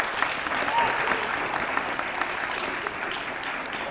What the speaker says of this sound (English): I just ask everyone to give a huge round of applause, especially for Kiana and Owen